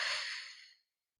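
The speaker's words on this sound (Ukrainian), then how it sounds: "Повільний довгий видих." A single slow, long exhale of breath during a guided calming practice, a soft breathy rush that fades gradually over under a second, heard alone without speech.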